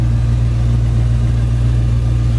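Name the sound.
1973 Ford Gran Torino engine running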